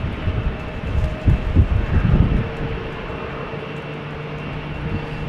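A KLM Embraer 190 jet waits at Amsterdam Schiphol in wet, windy weather, a loud steady engine rumble with low buffeting gusts early on, then an even whine and hum, no voices.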